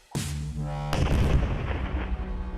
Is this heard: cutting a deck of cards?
no